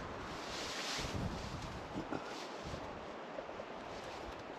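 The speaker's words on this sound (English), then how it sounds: "It's windy though." Steady wind gusts across a back bay in the Canadian wilderness on a canoe trip, buffeting the microphone with a low continuous roar and a few soft swells.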